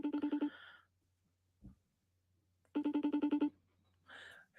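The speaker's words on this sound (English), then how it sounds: "Let's see if it rings. I'll FaceTime." A FaceTime call rings out as two bursts of a rapid electronic ringtone pattern, separated by a quiet gap, each followed by a short chime-like tone; no one talks over it.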